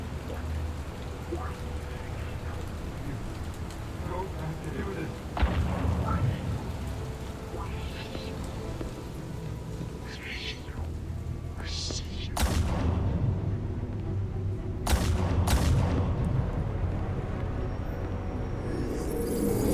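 Gunshots ring out in the Telltale Batman video game: a few sharp, loud cracks stand out late in the stretch over a steady rain-like background rumble and game ambience.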